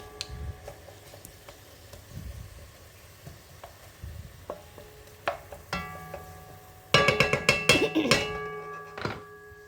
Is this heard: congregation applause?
no